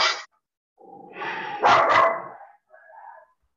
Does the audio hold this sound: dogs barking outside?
yes